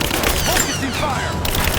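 Rapid gunfire from a firefight in the video game Rise of the Tomb Raider, a continuous dense burst of shots close up, with game voices and effects layered over it.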